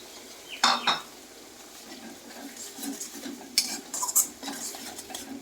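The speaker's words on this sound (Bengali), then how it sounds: "পেস্টটা দিয়ে একটু নাড়াচাড়া করার পরেই" Garlic, ginger, cumin and green chili paste stirred in a pan, with scraping clinks of a metal spoon against the pan in irregular bursts, close and moderately loud, no talking.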